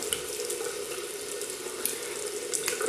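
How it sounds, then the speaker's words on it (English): Water running from a tap into a sink and splashing as hands wet a face before shaving, a steady close rushing hiss with small irregular splashes. "I'm going to wet my face and I'm going to just rub it all over"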